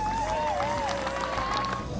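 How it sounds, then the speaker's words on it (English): Applause from a crowd honoring senior sand volleyball players, a steady broadband clapping wash that fills the whole stretch, with a sustained tone running over it. "Let's get a round of applause for Maria."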